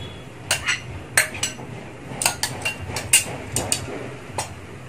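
Metallic clinks and scrapes of a utensil against a pan while stir-frying bamboo shoots, irregular and repeated, over a soft background hiss of cooking.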